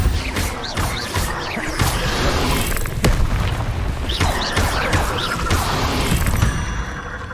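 Spell effects in Hogwarts Legacy, with Confringo explosions mixed among other casts: a dense run of loud booms, crashes and whooshing bursts, a voice shouting spell names over the battle.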